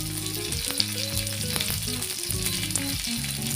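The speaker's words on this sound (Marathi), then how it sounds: "बागडे आहेत ना मी मस्त असे फ्राय करून घेतात एकदम कडक असे फ्राय ठेवतात बघा" Bangda mackerel fish frying crisp in a pan, a steady close sizzle with crackling spatter and occasional stirring, loud and continuous with no voices.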